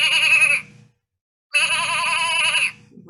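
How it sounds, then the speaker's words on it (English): A sheep grazing on icy grass bleats twice, loud and close, each a long wavering baa separated by a short silence, with no talking. "Let's see what sound a baa makes when it's done by a real sheep."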